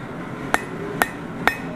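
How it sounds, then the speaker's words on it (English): A blacksmith's hammer peen strikes a hot steel hook on an anvil three times at an even, unhurried pace, each blow a sharp, close metallic ring over faint background noise. "I'm going to use the peen of the hammer"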